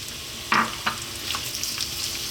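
Onions dropped into olive oil on a cooker, a close hiss of frying with a few sharp knocks and scraping stirs over a steady sizzle.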